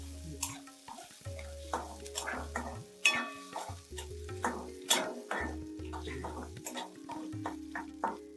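Onion fries softly in a pan for a Konkani vegetable dish while a spoon stirs it in short, irregular scrapes and taps, with a steady low hum underneath.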